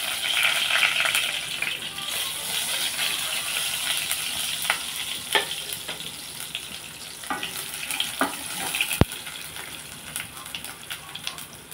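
Tempering spices crackle in hot oil in a pan for buttermilk rasam, a loud continuous sizzle scattered with pops and clicks, and one sharp knock near the end.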